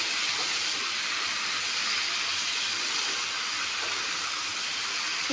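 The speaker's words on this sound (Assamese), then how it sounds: "এতিয়া বিলাহীখিনি দি অলপমান ভাজি ল'ম, যাতে বিলাহীখিনিও ভালদৰে ভজা যায়।" Tomatoes frying in a pan with chicken give off a steady, loud, unbroken sizzling hiss from start to finish, with no talking.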